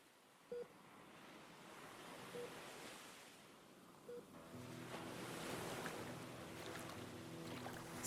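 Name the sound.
ocean waves washing onto a beach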